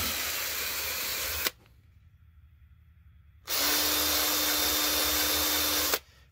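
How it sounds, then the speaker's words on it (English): A power drill bores a pilot hole through a morel mushroom spore block, running in two loud, steady bursts separated by a short pause, each with a high whine and a hissy, grinding edge. "I just drill a hole through them."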